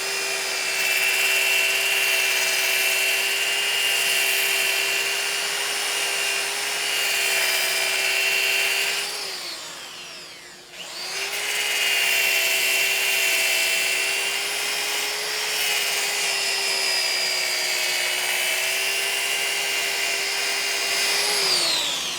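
A variable-speed, reversible electric drill fitted for sanding runs with a steady high whine, spins down briefly to near stop, then revs back up and runs on loudly to the end.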